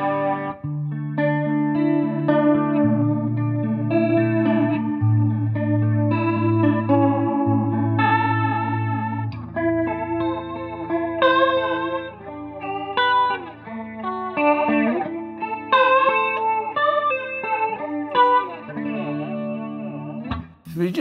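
Guitar played through a PRS flanger pedal with a swirling, Leslie-like rotary sound; sustained chords and melodic lines sweep and shimmer continuously, loud and alone for about twenty seconds.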